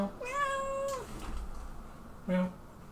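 A chatty pet cat lets out two clear meows close by, a long drawn-out one and then a short one. There is a quiet room hum underneath and no talking.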